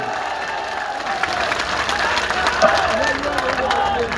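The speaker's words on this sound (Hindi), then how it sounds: "जोर से ताली बजाइए नारायण सिंह के लिए।" A rally crowd at a BJP public meeting in Raniwara applauds for Narayan Singh: a dense, steady wash of clapping and crowd noise that holds for several seconds, with a rise near the middle and a murmur of voices mixed in.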